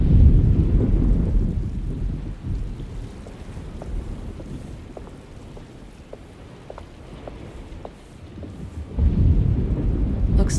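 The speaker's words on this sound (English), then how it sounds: "Looks like a storm's coming." A thunderstorm with rain rolls through in Alone In The Dark, deep rumbling thunder swelling at the start and again near the end over steady rain and wind, with no talk.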